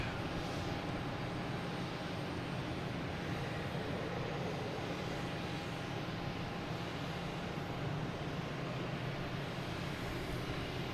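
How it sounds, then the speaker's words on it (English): Iberia Airlines A321neo XLR airliner arriving from Madrid at Logan Airport, Boston, heard as a steady, broad jet roar that holds at an even level throughout, with no voices. "Next to arrive is Iberia Airlines coming in from Madrid. A321neo XLR."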